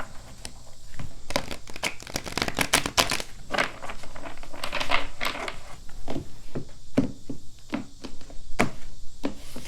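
Oracle cards from a Stop and Smell the Roses deck being shuffled, giving a run of crisp, rapid papery riffles and flicks that come in close bursts with short pauses between them and no talking.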